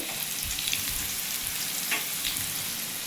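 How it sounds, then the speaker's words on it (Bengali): Radish pieces frying in hot oil in a wok, with dried red chillies, bay leaves and cumin seeds tempered in it first, giving a steady close sizzle with occasional stirring scrapes. "আমি এবার মুলোগুলো দিয়ে একটু ভেজে নেব"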